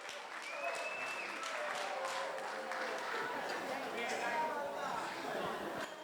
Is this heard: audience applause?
yes